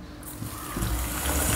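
Water pours into a pan of melted jaggery for a sweet and sour chutney, a steady close trickle that swells into a fuller gushing fill toward the end.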